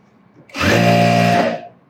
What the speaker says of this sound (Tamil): இப்போதைக்கு நான் தையல் போட்டுடுறேன்.